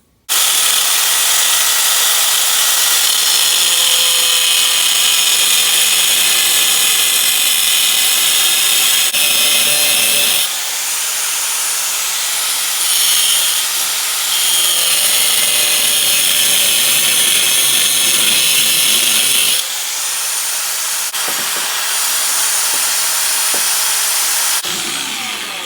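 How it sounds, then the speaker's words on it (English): Angle grinder fitted with a cutoff wheel trims a metal part for a Predator 212 engine mod, a loud, harsh continuous whine that drops briefly in pitch and load as the cut proceeds, close up with no talking. "I'm just going to take my grinder, put my cutoff wheel on, and trim that down"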